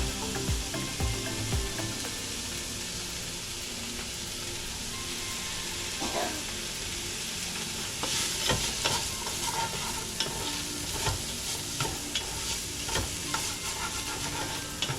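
Green onion and garlic frying in a pan, a steady close sizzle with scraping stirring strokes that grow busier and more clattery partway through, with no talk.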